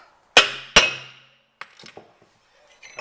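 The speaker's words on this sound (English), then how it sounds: "Get her out with a hammer here." Two sharp metallic hammer blows knock out a Ford Transit brake cylinder, each ringing briefly, followed by lighter clinks and taps of the freed part, close up with no talk.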